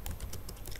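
Quiet, steady typing on a computer keyboard, a rapid run of soft key clicks over low background hiss.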